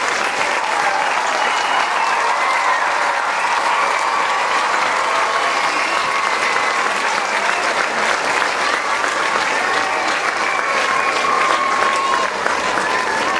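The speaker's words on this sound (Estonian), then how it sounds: "Veel kord suur aplaus" Steady, dense audience applause at the 15th Tartu gymnastics festival, a large crowd clapping continuously and loudly throughout with no letup.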